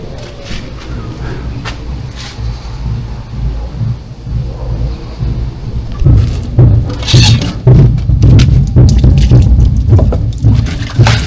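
Wind buffets the microphone while distant thunder rumbles; halfway through, heavy rain starts pouring down loudly and steadily.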